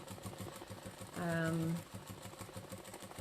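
A sewing machine with a closed-toe foot stitching raw edge appliqué runs in a steady, rapid mechanical whir throughout, while a brief tonal vocal sound rises over it for about half a second.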